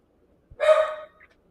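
A single dog bark sounds once, short and moderately loud, against near silence, with a faint trailing yelp after it.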